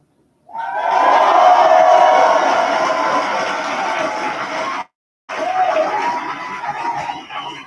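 A grown audience at a hip-hop session erupts in loud, sustained cheering, shouting and clapping close by, a dense roar that cuts out for a split second and then resumes at full strength.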